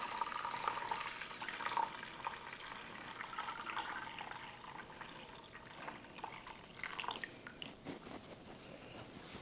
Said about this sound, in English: All right, so let's get this poured in. All right, so here's our awesome chicken stock.